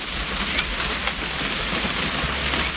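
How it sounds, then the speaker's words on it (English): Steady rain pours in the video game What Remains of Edith Finch, a continuous wash of drops hitting surfaces with a low rumble beneath, fairly loud and alone without any voices. "It's gonna rain the whole weekend, isn't it?"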